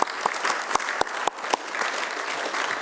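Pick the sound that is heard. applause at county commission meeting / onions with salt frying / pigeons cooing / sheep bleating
applause at county commission meeting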